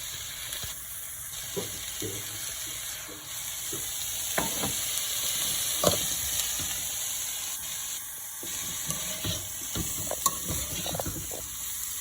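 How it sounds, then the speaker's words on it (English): Tofu fries for upma in a pan with a constant soft sizzle and hiss, broken by occasional light clicks and scrapes of stirring, close but fairly quiet, with no talking. "I'm gonna add the tofu to it."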